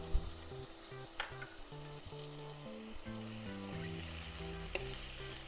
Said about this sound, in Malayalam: തക്കാളി നമുക്കിതിലിട്ടിട്ടൊന്ന് വഴക്കിയെടുക്കാം.